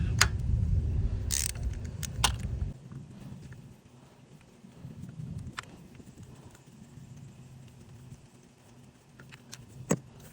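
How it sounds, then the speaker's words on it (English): Two 10mm bolts come off a variable valve timing solenoid on a 2010 Chevy Equinox engine: faint ratchet clicks and metallic taps, with a rumbling low hum in the first few seconds. "They are both held on by two 10mm bolts, so let's get those off."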